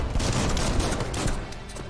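Dense, continuous gunfire from the Biomutant video game, loud rapid rounds blasting without pause, close and alone with no talking.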